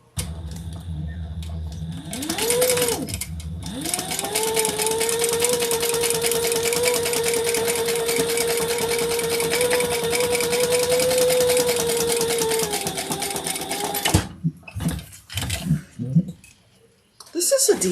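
A sewing machine runs in one long continuous burst while top stitching a fabric bag, its motor whirring steadily and close, then stopping with a few clicks and handling noises.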